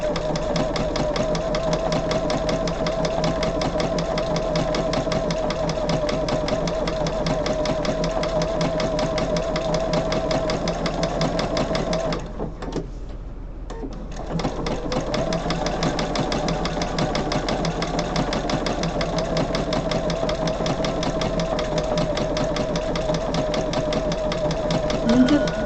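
A sewing machine stitches a curved seam with a steady, rapid, close mechanical hum that stops briefly near the middle and then resumes at the same pace.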